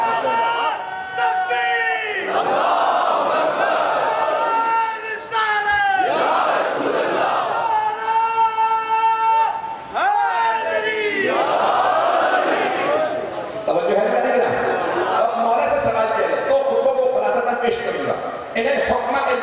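A large crowd chants religious slogans in unison at a Muharram majlis in an imambargah in Karachi, loud repeated call-and-response surges separated by short breaks.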